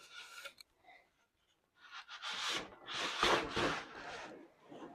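A wooden boom-arm part for a small woodshop dust collection system slides into a routed slot in the outer assembly, a rough rubbing, scraping wood-on-wood sound in a few close bursts after a brief pause.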